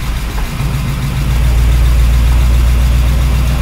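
A 1953 Oldsmobile Rocket Super 88 barn find idles steadily up close, a deep, continuous low rumble that grows slightly louder after the first second and holds even, with no talking.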